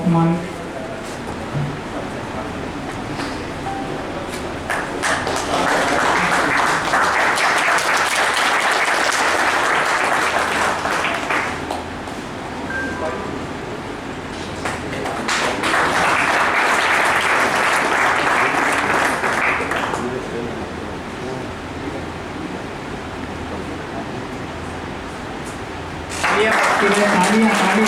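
Applause fills an award ceremony at a 2023 wage agreement gathering in Mandideep, arriving in two sustained waves of crowd clapping with a quieter lull between them and a further burst near the end. A voice speaks briefly at the start.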